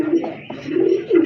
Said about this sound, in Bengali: এই যে দেখেন কবুতরগুলো